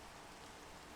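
Rain pattering at night in the Minecraft FBF Craft modpack, a faint, steady hiss of falling water that stays even and quiet for about a second.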